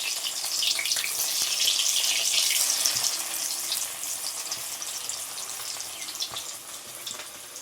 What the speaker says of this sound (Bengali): হালকা করে ভেজে নেবো বেশি লাল লাল করে ভাজবো না